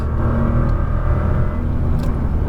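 Nissan GT-R on a race track, engine droning loud and steady under acceleration with a deep low rumble throughout.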